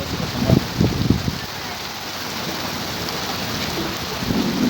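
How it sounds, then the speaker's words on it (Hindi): Heavy rain pours steadily at a hill fort lookout near a lake road, a dense continuous hiss with a few low rumbling bursts early on, loud and close. "बारिश कितनी तेज़ है"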